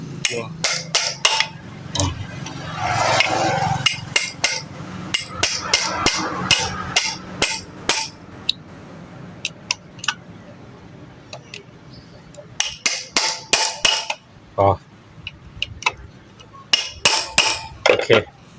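Sharp metallic hammer taps seat a seal on the stator plate of a Honda Wave 100 motorcycle, coming in irregular bursts of quick close strikes with short pauses and a faint clink between blows.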